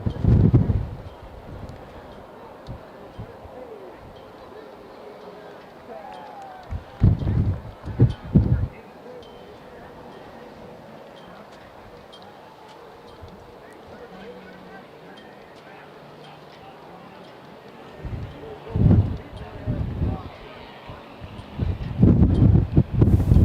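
Gusty wind buffets the microphone at an outdoor soccer game, a low rumbling roar that swells in loud bursts at the start, middle and end, with a quieter steady rush between them.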